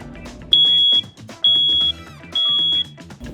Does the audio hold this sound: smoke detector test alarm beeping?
yes